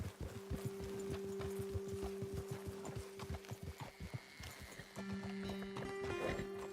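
Horses walk in Red Dead Redemption 2, their hooves clip-clopping in a steady, close rhythm over a low ambient hum, with a brief whinny-like sound toward the end.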